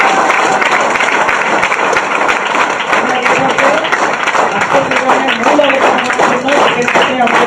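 An audience at a network marketing company event breaks into sustained, dense clapping that fills the hall at a strong level, with voices heard among the applause.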